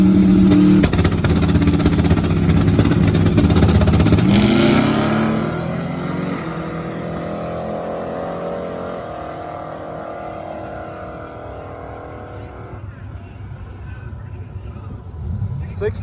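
A drag racing car roars loudly through a run at a Drag N Drive event, the engine note sweeping and fading into the distance, with a lower rumble lingering afterward.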